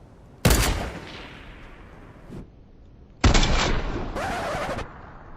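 Gunfire from enemy bots in the video game Fortnite: a loud sharp burst, a fading echo, then a second rapid burst of automatic fire, close and alone.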